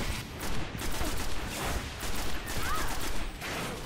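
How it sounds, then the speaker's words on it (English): Rapid weapon fire from a fusion rifle in a Destiny multiplayer match, dense crackling bursts repeating steadily throughout amid other gunfire and game effects, with no clear talk. "Ah, fusion rifle."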